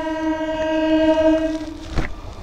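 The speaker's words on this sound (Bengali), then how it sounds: "দেখতে পাচ্ছ এটা হচ্ছে গেদে লোকাল।" A Gede local passenger train beside a road sounds a loud sustained horn blast lasting nearly two seconds, followed by a short burst of rumbling noise.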